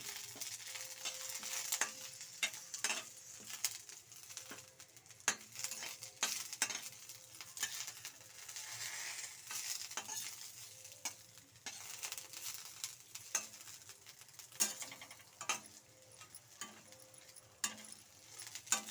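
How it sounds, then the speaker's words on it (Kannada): Curry leaves frying in a pan crackle softly, with frequent sharp clicks of a utensil stirring and scraping against the metal at an uneven rhythm throughout. "ಈ ಕರಿಬೇವನ್ನ ಒಂದು ಸ್ವಲ್ಪ ಈ ರೀತಿ ಫ್ರೈ ಮಾಡ್ಕೊಳ್ಳಿ"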